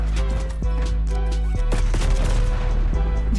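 A pistol fires in Black Ops 6, several sharp shots at an irregular rhythm over a constant low hum of game sound, close and fairly loud.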